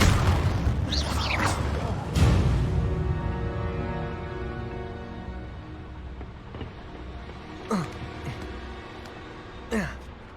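A Confringo spell blast in the game Hogwarts Legacy, a heavy boom at the start with a second burst around two seconds that fades into a ringing tail, followed by sparse whooshing spell effects later.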